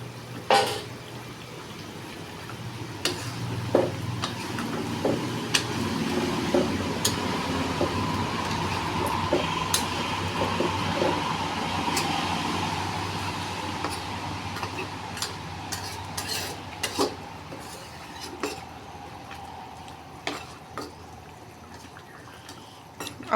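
Potatoes going into a pan of fish curry, with a steady sizzle and frying hiss running throughout, and occasional clicks and scrapes of a spoon stirring. No talking.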